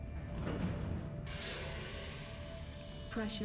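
Hydraulic systems powering up in the video game Subnautica, a mechanical whirring and ratcheting rise that turns into a sustained bright hum, ending in a brief clunk, with no talk over it.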